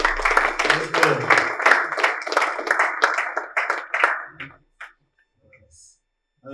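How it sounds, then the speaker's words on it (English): Clapping and applause from a small crowd at a boxing press conference, dense for about four seconds before tapering off into a few scattered claps and near silence. "Give a round of applause to Kai, guys"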